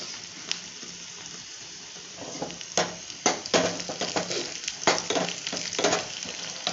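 Sambar seasoning ingredients frying in a pan over a low flame, giving a steady soft sizzle with sharper crackles and pops building from the middle onward, close and without talk.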